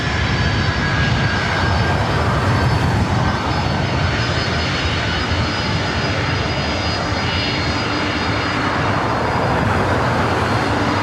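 A Delta Boeing 767-300ER departs for JFK, a steady broadband jet engine roar that holds loud and constant throughout with no voices.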